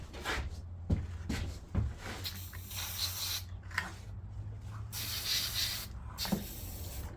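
Aerosol WD-40 sprayed on a worn Honda EU3000is generator during servicing, heard as several short hissing bursts of varying length close by, with small clanks and handling noises between them and no talk.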